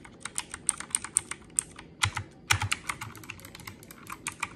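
Computer keyboard keys clatter steadily during fast video game play, a close, dense run of sharp clicks and taps with occasional heavier strikes and no voices.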